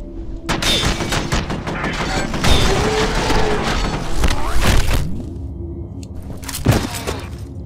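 Several loud gunshots crack out in quick bursts in the video game F.E.A.R., sharp and close, with booming echoes and mechanical clatter between them, a voice speaking in the background.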